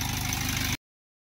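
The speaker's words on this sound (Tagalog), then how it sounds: "Maganda yung engine niya, maganda yung tunog ng engine niya." Isuzu Elf NKR dropside truck engine, a surplus Japanese unit with manual transmission, idling steadily up close as a low, even rumble that cuts off abruptly after under a second.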